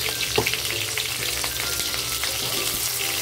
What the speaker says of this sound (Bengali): তেলটা আমার গরম হয়ে গেছে, এখন সবজিগুলো ছেড়ে দেবো এক এক করে এভাবেই